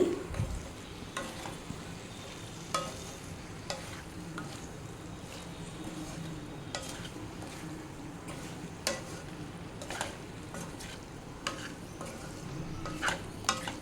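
A spoon scrapes and stirs repeatedly through potato and capsicum curry in a sizzling pan, steady rhythmic strokes over a constant frying hiss.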